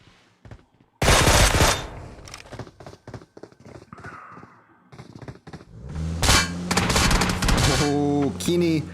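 Gunfire in PUBG Mobile, a battle royale game during a tournament match, with bursts of rapid automatic shots, metallic clanks and impact sounds, loud and near, filling most of the stretch after a quiet start.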